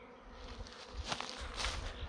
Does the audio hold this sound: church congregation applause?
no